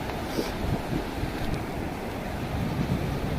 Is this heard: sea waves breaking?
yes